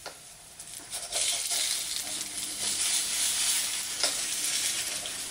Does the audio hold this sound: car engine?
no